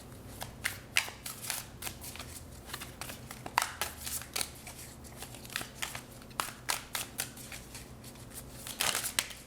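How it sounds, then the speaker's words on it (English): Tarot cards are shuffled in a quick series of crisp riffling and slapping bursts, close and fairly quiet, with irregular pauses and no talking. "I'm going to shuffle these tarot cards to get some last bits of information"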